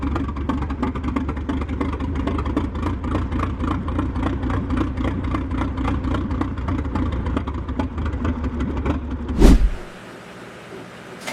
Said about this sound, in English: Powered by a gasoline flathead engine, 6 to 12 horsepower or 10 to 25 horsepower, it is operated with hand controls and a hand crank, delivering a slow, powerful pull and a deep chest-thumping exhaust note.